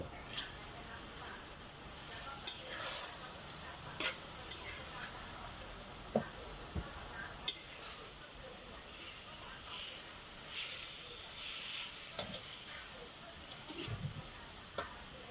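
Bean sprouts and minced pork sizzle and hiss steadily in a hot pan, with occasional scraping and clinking of a utensil stirring them.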